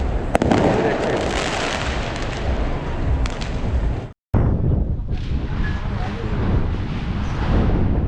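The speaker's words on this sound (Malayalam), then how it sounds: "ചെവി പോണ രീതിയിലുള്ള പൊട്ടനാണ് കേട്ടോ" Diwali firecrackers bursting loudly on a crowded street in Dubai's Meena Bazaar, a dense, continuous crackle of blasts with a brief silent gap midway, people's voices mixed in.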